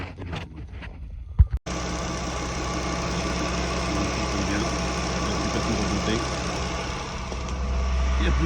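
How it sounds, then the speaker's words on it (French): Renault Clio 4 with a 0.9 TCe three-cylinder engine cranking and starting after an accessory belt replacement, then settling into a steady close idle with a low hum and faint ticking; someone speaks before the start. "on va pouvoir démarrer le moteur"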